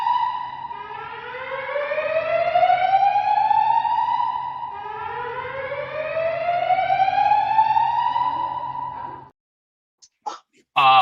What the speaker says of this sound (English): the fire alarm gets louder and louder